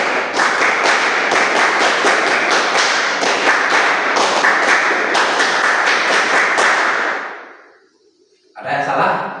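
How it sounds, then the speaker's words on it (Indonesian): A group of Indonesian scouts performs the tepuk pramuka rhythmic clap twice: dense, loud, patterned group clapping with sharp accents that stops abruptly, followed by a brief pause and then a voice. "Tepuk pramuka 2 kali"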